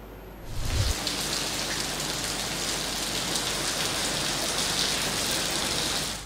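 Torrential rain pours down in Karachi, a dense, loud, continuous hiss of drops pounding surfaces that starts abruptly and holds steady throughout, with no voices.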